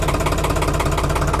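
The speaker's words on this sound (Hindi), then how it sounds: "आइडल आरपीएम की बात करें तो आपको लगभग देखने को मिलेंगे 700 से 750 आरपीएम आइडल है" A New Holland 3600 tractor engine idles at roughly 700 to 750 rpm, a loud, close, steady rhythmic chugging with even, quick pulses throughout.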